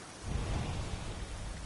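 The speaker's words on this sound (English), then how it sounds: "Gathering storm." Low thunder rumble of a gathering storm in the video game Assassin's Creed Odyssey, a steady rolling roar with rain-like hiss above it, sustained for under two seconds without voices.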